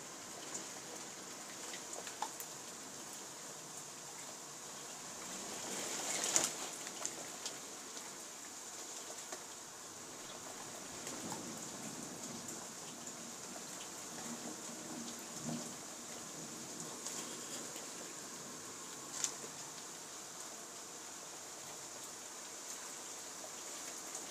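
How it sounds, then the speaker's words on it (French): Rain from a heavy thunderstorm falling against a window pane, a soft steady patter and hiss heard from indoors, fairly faint, with a few brief louder taps and no voices. "Ça pleut sur la vitre."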